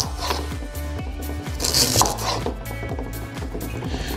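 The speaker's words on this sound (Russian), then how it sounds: "Нарежем овощи, морковь кольцами." A knife chopping carrots into rings on a board, a steady rhythm of crisp, close cuts at a brisk, even pace with no talking.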